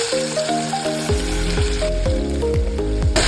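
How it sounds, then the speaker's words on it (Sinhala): Seasoned chicken pieces frying in hot oil for fried rice give a steady, loud sizzle and crackle, close up, with a tonal melody running over it. "හොඳට සීසන් කරගත්ත chicken එක හොඳට තෙලේ බැද ගන්න"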